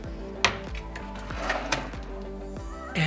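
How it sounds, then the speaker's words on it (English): A very shallow drawer in a Mirage Las Vegas hotel room slides open and shut, giving a few short wooden knocks and clacks over a steady low room hum. "a very shallow drawer"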